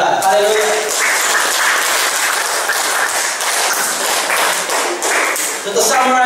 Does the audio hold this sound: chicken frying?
no